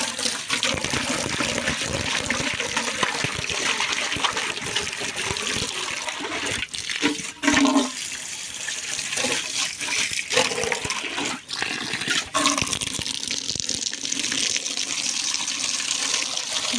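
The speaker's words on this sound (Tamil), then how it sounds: "தண்ணி ஊற்றி விடுவோம்" Water pours for goats on a farm, a loud continuous splashing and rushing that runs throughout with brief breaks and shifts in flow.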